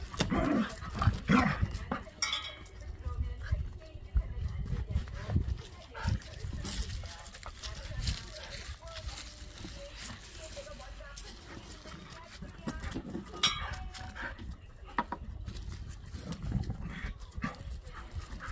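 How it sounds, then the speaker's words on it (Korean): An adult dog scuffles and plays with puppies nearby, with soft yips, whines and occasional barks, plus faint clinks and rustling over a quiet background. "깜순이도 그냥 무서운 애인데 성견들도성견 수컷들도 꼼짝 못하는데 강아지들이라고 놀아줍니다 같이"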